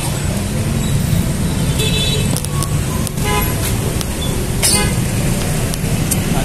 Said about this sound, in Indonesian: ini terpantau lalu lintas padat